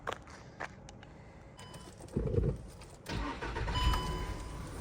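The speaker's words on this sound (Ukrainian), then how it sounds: "Автомобіль завівся з півтику, не димить, не троїть." A 2010 Volkswagen Touran's 1.6 MPI petrol engine cranks and catches, then settles into a steady idle, recorded close with small clicks beforehand.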